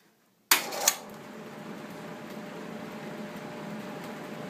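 A replacement multi-speed motor in a Homart evaporative cooler starts with a clunk and click, then settles into a quiet steady hum with a faint whir, close and alone.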